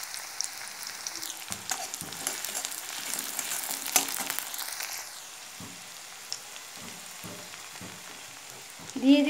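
Two bay leaves and chopped onion drop into hot oil, giving an uneven crackling sizzle with bursts and spits that settles into a quieter fry, ending in a short louder clatter.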